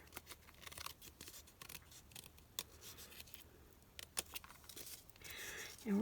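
Scissors trimming a paper Halloween craft piece, giving a series of quick, light snips and rustles at close range, with no talking.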